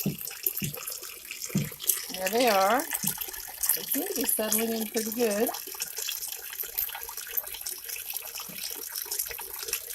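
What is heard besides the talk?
water pumped up into a bucket waterfall over a pond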